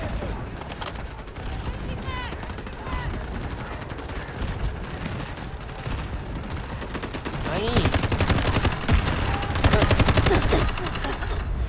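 AUG rifle gunfire in Delta Force Mobile, rapid automatic bursts crackling loudly and repeatedly throughout, growing heavier toward the end while someone talks over the shooting.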